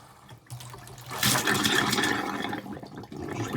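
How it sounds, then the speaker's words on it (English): Water rushes from the taps of a 2002 Benimar 5000 CDL motorhome as the pump pushes hot water through, a close, steady hiss and gush that swells after a quiet start and keeps flowing. "I'll just be pumping through the hot water now"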